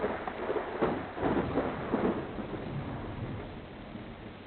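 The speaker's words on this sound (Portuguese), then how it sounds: "Por que será que em tudo quanto é aplicativo de música tem uma playlist com o som da chuva para fazer a gente dormir?" Rain with rolling thunder, a steady wash of rainfall with deep, muffled rumbles swelling in the first half and then easing into a softer continuous patter.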